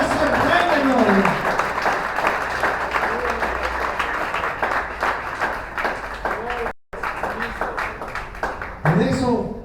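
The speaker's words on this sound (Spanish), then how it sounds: "Den un aplauso al Señor." A church congregation applauds with sustained, dense clapping that fills the room, while a preacher speaks over it and then the clapping tapers off.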